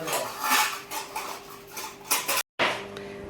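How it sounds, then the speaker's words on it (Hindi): Cardamom is pounded in a metal pot or mortar to make tea, giving a rapid clatter of metallic knocks and scrapes, fairly close, with a brief drop to silence near the end. "अब इलायची कूट रहा है"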